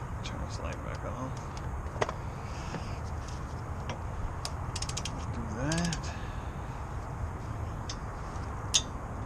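A half-inch ratchet working on brake bolts of a 2010 Pontiac Vibe during a pad and rotor job: clicking ratchet pawls, creaks and sharp metallic ticks in bursts, close, with someone talking over it.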